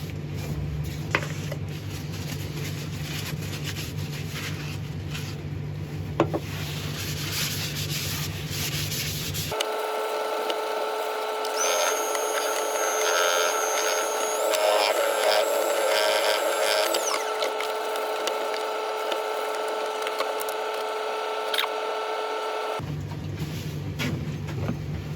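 Abrasive grit is pressed against a piece of spinning wood on a lathe, making a loud, steady rubbing hiss for about thirteen seconds. The lathe's motor hum runs before and after.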